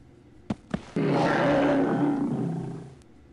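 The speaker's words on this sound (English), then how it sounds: "You hear a roar just behind you and turn in time to see a monster fall to the ground" Monster roar in the Shannara video game, preceded by two sharp thumps and then a loud, sustained growling roar that swells and fades over about two seconds.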